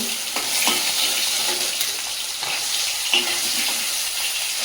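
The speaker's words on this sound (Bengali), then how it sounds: "মাছগুলো লাল লাল করে ভেজে নিয়ে একটু তুলে নেব।" Pieces of fish fry in hot oil in a pan, giving a steady close sizzle broken by occasional stirring scrapes, with no voices.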